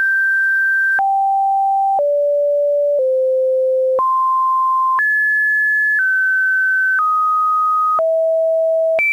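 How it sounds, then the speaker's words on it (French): Strident pure-tone beeps in a WebDriver Torso sequence, about nine steady one-second tones that jump abruptly between high and low pitches, loud and clean with no pauses. "des vidéos d'une dizaine de secondes avec des rectangles et des bruits stridents"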